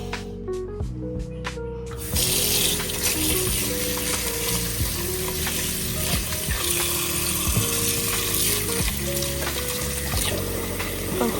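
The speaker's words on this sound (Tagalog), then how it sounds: "Panghugasan ang bokchoy." Tap water runs steadily into a sink as bok choy is washed for sinigang in a home kitchen, a continuous close splashing hiss with clattering handling of the greens.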